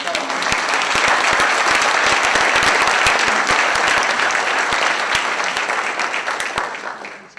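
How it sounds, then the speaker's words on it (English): Sustained applause from a lecture audience honoring the team behind an exhibit on the archaeology of Copan, Honduras; dense, steady clapping that holds at full strength for several seconds, then begins to taper off toward the end. "ask for an applause for all those people that worked on it"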